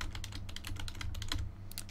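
Rapid, irregular tapping of keys on a computer keyboard at a desk, clicking steadily and close throughout over a low constant hum, with no voice.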